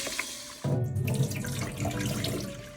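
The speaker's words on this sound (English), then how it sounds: "It's important to wash the rice in cold water." Cold tap water gushes over rice being washed in a pot for Bengali chicken polao, switching on abruptly after a brief quiet moment and then running continuously with light splashing and clinks.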